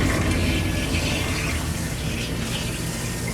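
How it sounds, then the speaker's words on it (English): A kitchen sink garbage disposal runs with water draining through it, a loud, steady grinding rush with a low rumble that holds constant throughout. "All you gotta do is get rid of the water and turn on your garbage disposal"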